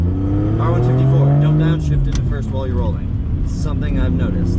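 A car with an R154 manual gearbox revs its engine during a downshift, a steady rising engine drone up close that carries under a person talking throughout.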